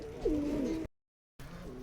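Male Giribaz and Madrasi pigeons cooing nearby, a soft low coo before a short silence and a faint murmur after.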